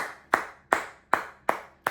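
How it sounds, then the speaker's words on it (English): Five sharp, evenly spaced hand claps from a single person, close and distinct, each decaying quickly into near silence before the next. "that's worth a round of applause"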